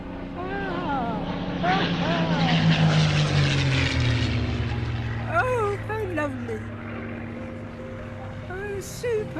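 A Supermarine Spitfire flies past with its propeller engine droning steadily, its pitch shifting as it goes by. Birds chirp around it and people talk softly throughout.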